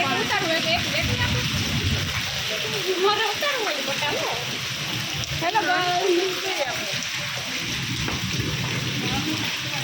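Heavy rain pours and splashes steadily in a village market while people talk over the downpour.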